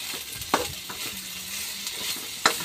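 Shrimp paste (bagoong) being sautéed in a pan for Bicol Express, giving a steady soft sizzle with a few sharp stirring clanks of a utensil against the pan, close by with no talking.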